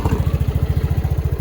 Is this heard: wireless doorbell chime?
no